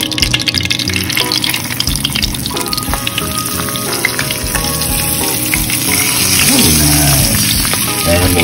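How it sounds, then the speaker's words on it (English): Yellow croaker fish shallow frying in oil in a pan gives a loud, steady sizzle and crackle, with occasional spatters and stirring sounds throughout. "we want to sort of deep shallow fry them on each side"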